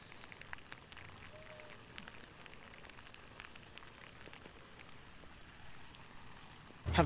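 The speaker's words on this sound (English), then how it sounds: "as the rain continues to fall" Steady rain falls over a flooded neighborhood during Hurricane Harvey, a soft continuous hiss of drops on water and surfaces with no voices, ending in a brief louder burst.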